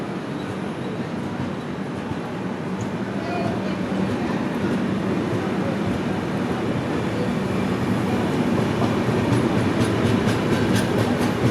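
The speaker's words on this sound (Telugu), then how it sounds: "ట్రైన్ స్పీడ్ అయింది, గట్టిగానే లాగుతున్నాడు ఇంజిన్ డ్రైవర్." The Puri–Tirupati express, hauled by its engine, picks up speed with a steady loud rumble of wheels on rails and rattling coaches, a continuous close roar with faint clicking throughout.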